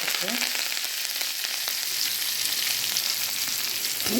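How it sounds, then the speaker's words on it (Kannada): Cumin, chili and onion fry in hot oil while preparing shavige bath, a loud, steady close sizzle with a brief stir scrape near the start and no talking. "ಈರುಳ್ಳಿ ಫ್ರೈ ಮಾಡುವುದು ಚೆನ್ನಾಗಿ ಫ್ರೈ ಆಗಲಿ"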